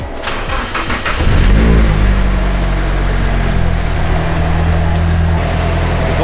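A turbocharged car with an oil leak at the turbo feed cranks, fires and settles into a loud, close, steady idle with a low rumble and a slight rise in revs after starting.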